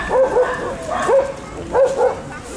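A dog in a Białystok park at an animal-shelter adoption event gives several yipping, whimpering barks in uneven bursts. The barks are close and fairly loud, with a little background noise between them.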